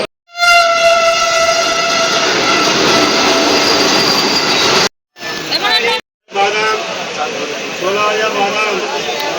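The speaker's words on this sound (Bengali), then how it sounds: "এখন বর্ধমানে 2 নম্বর প্ল্যাটফর্মে এসে ট্রেনটা থামলো" A train pulls into platform 2 at Bardhaman station. A loud, sustained horn-like tone plays first, followed by rumbling and screeching wheel noise broken by short silent cuts.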